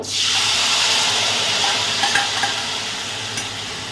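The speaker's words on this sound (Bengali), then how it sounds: "এবার আমি এর মধ্যে দেব যেটা হচ্ছে এই যে মাছের ঝালটা ছিল" Fish curry hits a pan with little oil and starts a loud, steady hissing sizzle that carries on throughout, with a few faint stirring taps near the end. Nobody speaks.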